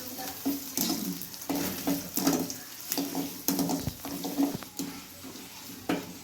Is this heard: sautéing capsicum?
yes